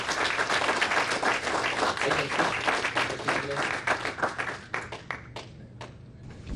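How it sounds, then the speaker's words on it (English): A lecture audience gives a sustained round of applause for a guest speaker, dense clapping from a full room that thins toward the end, with a few scattered last claps. "Give him a big round of applause."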